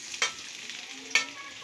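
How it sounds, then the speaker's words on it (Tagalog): Garlic and onion sautéing in a pan, a soft continuous sizzle with two sharp scraping stirs, each standing out clearly above the frying. "Ilagay na natin yung ating bawang sibuyas."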